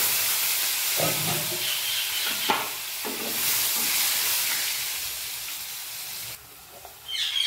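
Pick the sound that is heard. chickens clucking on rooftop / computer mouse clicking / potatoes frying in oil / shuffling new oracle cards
potatoes frying in oil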